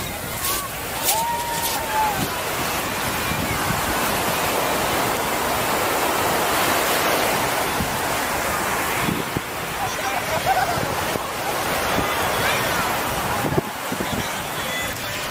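Ocean waves wash steadily onto a busy beach in Puerto Vallarta, a continuous broad roar with some wind noise and faint activity, and a person talks over it.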